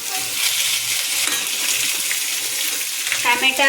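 Tomatoes go into a pan of browned Maggi noodles, and a loud, hissing sizzle of frying continues with stirring clatter and a few light clinks near the end.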